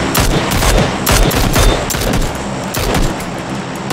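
Rapid bursts of automatic gunfire crackle during shooting practice in the battle royale game PUBG, dense overlapping shots with booming impacts, loud and nearly continuous across the clip.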